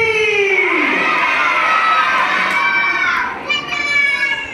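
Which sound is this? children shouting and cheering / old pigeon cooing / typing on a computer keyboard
children shouting and cheering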